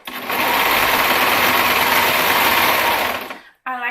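A serger with its knife engaged stitches the hood of an oversized sweater, a loud, fast, steady mechanical whir running for about three seconds before winding down and stopping, with a brief sound just after.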